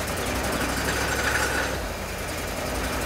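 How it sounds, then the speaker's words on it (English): A 5.9 liter Jeep engine runs rough and uneven, a steady broadband mechanical roar that holds loud and close for the whole stretch with no talk over it. "Yeah, it's running really bad."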